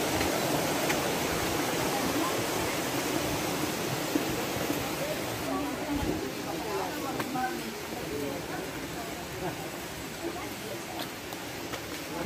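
A clear river near Daranak Falls rushes in a steady broadband wash, constant and fairly close, with people talking over it.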